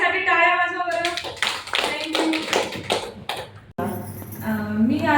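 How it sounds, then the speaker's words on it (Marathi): A crowd claps in a short burst at a testimonial gathering for a pulse therapy belt, cheering an elderly mother. The clapping sits under music and voices before the sound cuts abruptly. "तर म्हणून आईसाठी टाळ्या वाजवा बरं."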